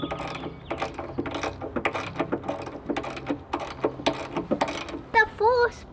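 A hand tool drives a screw into pavilion hardware during a backyard build, giving a close, rapid string of clicking ratchet-like bursts with short pauses between them and a brief higher squeak near the end.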